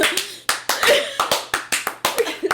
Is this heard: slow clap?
yes